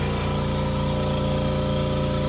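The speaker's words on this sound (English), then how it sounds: "once I get it cold, I will then start the compressor" A cryocooler compressor used to make liquid nitrogen at home runs with a steady, loud, even hum and pulsing drone, close by and unbroken throughout.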